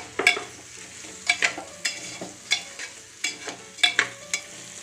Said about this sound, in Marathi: आणि याला परतून घेऊ, चांगलं मिक्स करून घेऊ